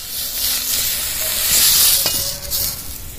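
Eggplant slices frying in mustard oil in a wok, giving a continuous close, bright sizzle and hiss with a few faint clinks, no voices.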